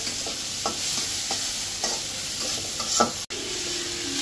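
Stir-frying in a pan gives a steady close sizzle broken by regular scraping spatula strokes, with one sharp click near the end and no talking.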